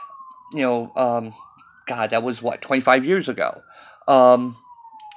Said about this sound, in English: Sirens going outside.